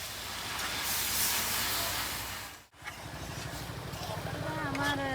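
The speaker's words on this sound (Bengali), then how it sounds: "এখন আমি জলটা দিয়ে দেবো।" Water hits a hot pan of village-style chicken curry after the spiced meat has been fried down, giving a loud, steady hiss and sizzle. A brief break follows, then softer bubbling as a voice speaks near the end.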